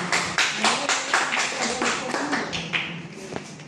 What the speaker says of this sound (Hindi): तालियों से आप लोग स्वागत करें इसे